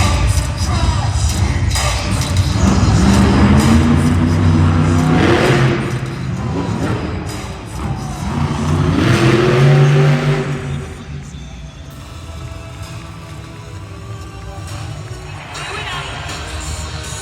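Bigfoot monster truck engine revving hard during a wheelie at a Hot Wheels Monster Trucks Live arena show in Birmingham, loud surging roars rising and falling twice over a cheering crowd, with an announcer talking.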